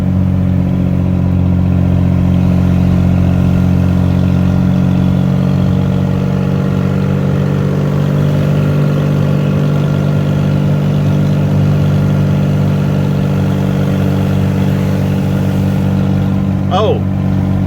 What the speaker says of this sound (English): I've got the window rolled down and it's kind of a loud truck.